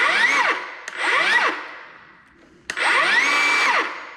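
A power saw fitted with a Diablo blade spinning up in three loud bursts, each with a rising and falling whine, separated by brief pauses, close by with no voices.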